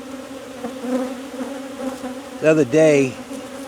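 Honeybees buzz around an open hive during a colony split, a close, wavering hum that swells into louder bursts toward the end, with a voice briefly speaking over it.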